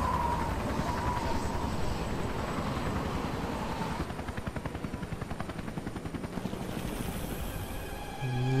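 Helicopter in the video game Resident Evil Revelations, a steady loud rotor drone with rhythmic chopping pulses throughout, shifting in tone midway as the aircraft moves.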